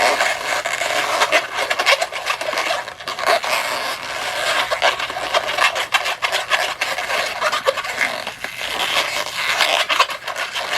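Small twisted balloon bubbles squeak and rub continuously up close, a dense scratchy stream of rubbery friction with quick irregular twists and no voices.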